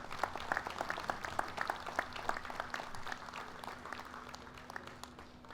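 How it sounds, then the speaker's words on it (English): An audience at the opening ceremonies of the annual Choctaw Indian Fair claps in a round of applause. The clapping is fairly quiet and sounds a little distant, fading gradually toward the end. "Let's give him a round of applause"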